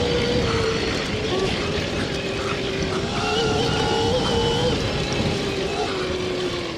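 An electric dirt bike riding off-road on a wooded trail gives a steady, close motor whine with rising and falling pitch, over continuous rumble and rustle from the terrain, with no talk.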